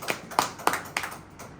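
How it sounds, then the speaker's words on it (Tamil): A congregation clapping hands in worship, a few sharp claps in a quick even rhythm, fairly close. "கைத்தட்டி ஆண்டவர் மகிமைப்படுத்தலாமா?"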